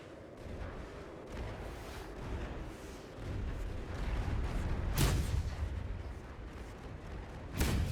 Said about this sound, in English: can we drag it over here and let it shoot these icebergs?